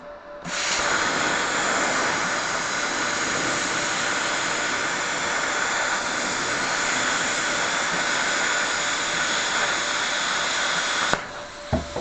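A Harbor Freight Titanium 45 amp plasma cutter cuts metal with a loud, steady airy hiss that starts abruptly, holds unbroken for about ten seconds, then cuts off with a couple of clicks.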